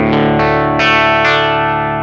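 Electric guitar through a Hologram Chroma Console preset with drive and a doubler, four strummed chords ringing out close and loud with a thick, slightly distorted, chorused sustain and no talking.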